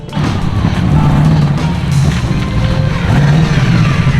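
A V8-swapped Porsche 911 engine idles roughly and unevenly, a loud, close, lumpy rumble with irregular thumps and surges in its note.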